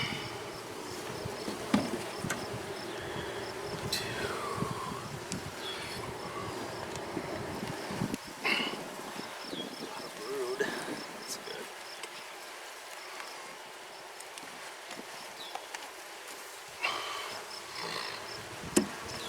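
Honeybees around an open hive in May, with a steady insect drone and occasional closer buzzing passes, plus faint handling noises and brief quiet murmurs in the background.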